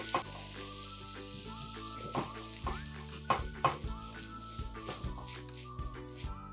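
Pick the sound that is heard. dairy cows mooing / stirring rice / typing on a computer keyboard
stirring rice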